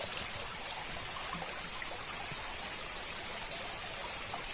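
Water of the Kachhjan river flowing in a steady, soft, continuous rush, moderately faint and even throughout with no voices.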